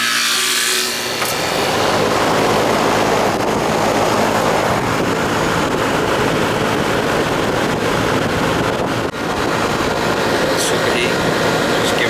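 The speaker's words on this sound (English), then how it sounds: "We're getting nice hot air coming out of here." A repaired central air conditioner running steadily, a loud continuous broadband whoosh of blowing air and machinery hum that holds for the whole stretch after a short quiet start.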